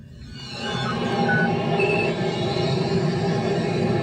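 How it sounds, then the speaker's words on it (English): A Tesla's exterior speaker plays a Millennium Falcon sound effect, a sustained whirring, humming drone with layered tones that swells in and holds steady at moderate loudness. "I guess that's the noise the Millennium Falcon makes."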